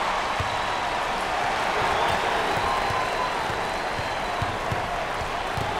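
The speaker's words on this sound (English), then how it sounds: "Standing ovation" A basketball arena crowd at an NCAA tournament game gives a standing ovation, dense sustained applause and clapping with cheering washing evenly throughout.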